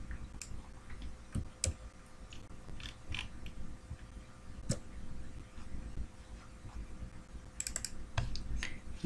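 Someone types on a computer keyboard in irregular bursts of quiet, close key clicks with short pauses between, with no talk over it.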